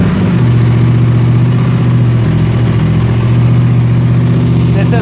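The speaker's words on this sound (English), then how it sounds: "This is how it sounds at idle." Aprilia RS 457 fitted with a GPR Ghost Inox full-system exhaust and dB killer, warm engine idling steadily: a loud, even low burble with a constant throb, close to the mic, with no other sounds over it.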